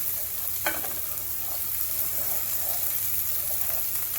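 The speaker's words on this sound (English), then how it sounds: "so now I'm going to add my garlic" Garlic frying with sliced brown mushrooms in a pan for beef stroganoff, a steady close sizzle with a sharp stirring scrape early on and soft clinks throughout.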